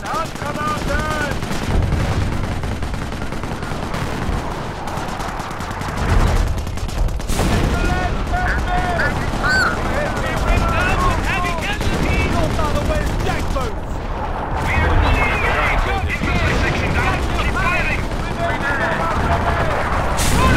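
Sustained gunfire and machine-gun bursts in the Company of Heroes: Opposing Fronts Market Garden campaign at Oosterbeek, with steady battle noise, occasional booms and shouted unit voices throughout.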